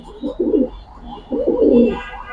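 Pigeons, an adult pair kept with their chicks and eggs, coo nearby in two rolling, throaty phrases separated by a short pause, with no speech over them.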